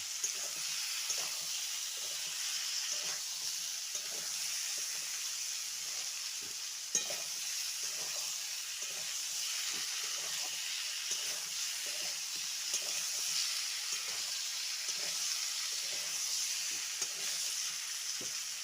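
Fish curry with potato and beans, tomato and black cumin sizzles steadily in a pan while being stirred, with a continuous frying hiss and intermittent soft scraping strokes of the spoon, close and alone.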